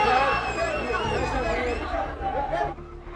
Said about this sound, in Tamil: இப்படிப்பட்ட ஆரவாரம், இந்த ஆரவாரத்தை இந்த கமலா திரையரங்கத்திலே இத்தனை ரசிகர்களை குழும